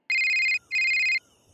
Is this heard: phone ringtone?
yes